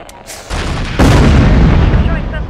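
Gunfire and explosions erupt in the MechCommander mech combat game, a heavy, loud roar of booming blasts that swells abruptly and holds steady, with radio-style voice chatter blended underneath.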